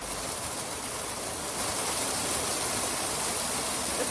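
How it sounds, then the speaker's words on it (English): Hail pelting a backyard greenhouse during a hailstorm, a steady dense hiss of impacts that holds constant and grows slightly louder, with no voices. "Hold on, it started hailing."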